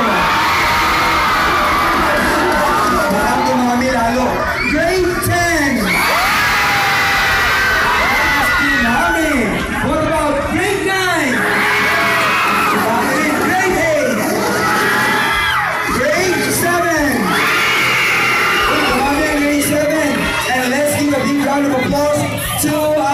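High school students at a cosplay event cheer, whoop and scream in loud, sustained waves, a dense crowd roar that swells and surges repeatedly for over twenty seconds, with shouted voices rising out of the mass.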